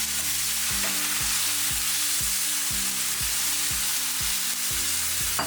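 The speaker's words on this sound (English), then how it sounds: "We're gonna add in our onions and our garlic and give that a nice saute." Onions and garlic sauté in hot oil, a loud, even hiss of frying that runs unbroken under a low, regular rhythmic hum, close up.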